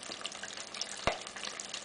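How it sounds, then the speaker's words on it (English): Shrimp balls fry in hot oil with a steady, crackling sizzle, fairly quiet, broken by one sharper pop partway through. "just sizzling right up in that hot oil"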